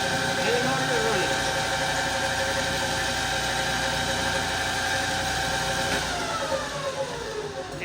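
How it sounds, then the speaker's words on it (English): The motor of a Lucas #31 horizontal boring mill runs at a steady, continuous hum with mechanical whine and vibration, close and fairly loud, with someone talking over it. "the motor is running"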